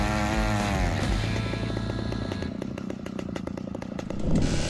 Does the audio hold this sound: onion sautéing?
no